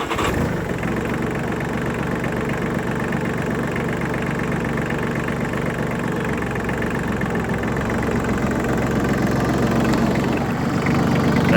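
A New Holland Simba 30 mini tractor with a 30 hp engine runs at a steady idle, a close, continuous low rumble that holds even throughout and swells slightly toward the end.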